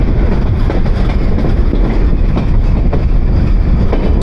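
The Dhumketu Express on its Dhaka to Rajshahi run rumbles loudly and continuously, with dense low roar and faint rhythmic clatter of wheels heard from on board.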